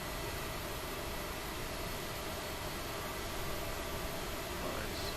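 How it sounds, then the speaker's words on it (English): Steady, droning engine of a Cessna 172 in a flight simulator, a constant broadband roar and hiss that stays even throughout with no change in pitch or level. "Aircraft getting ready to go."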